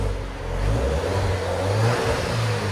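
A stock-exhausted 2019 Alfa Romeo Giulia with a 2.0-litre turbo engine revs up, its steady mid-pitched engine note rising and holding close by, loud and alone without talk.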